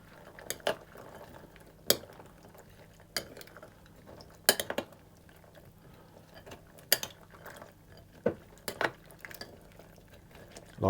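Prunes and raisins tossed around in a bowl for a malt loaf: scattered light clinks and scraping rattles in short irregular bursts, close and fairly quiet with gaps between.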